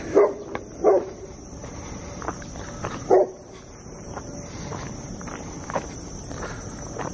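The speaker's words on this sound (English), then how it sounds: "Oh, there's another dog." A dog barks outdoors along a wooded trail near a mill in Dalton, Georgia: three loud barks, two close together and one a few seconds later, over steady crunching footsteps and background hiss.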